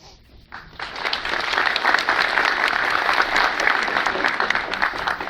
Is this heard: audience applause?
yes